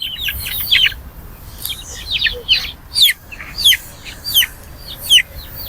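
Chickens cluck and call in repeated bursts at a market stall where birds are sold in pairs, loud and close over a faint, steady background hum.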